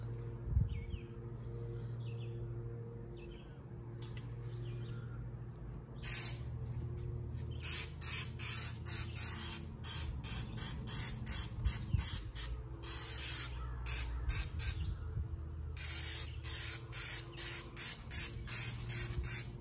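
Rocker grease undercoating sprayed onto a 2013 Ford Econoline E350 during rocker panel replacement, repeated hissing bursts of spray in short rhythmic pulses, close and fairly loud over a low background hum.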